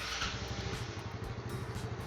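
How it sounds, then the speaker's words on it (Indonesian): A 2004 Yamaha Mio Sporty scooter engine runs steadily up close, its fast, even putter holding at a constant idle-like pace with no talk over it. "Kita dengar suara mesinnya."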